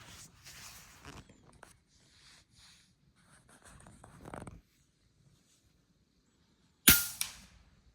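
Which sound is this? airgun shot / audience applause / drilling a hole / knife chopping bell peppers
airgun shot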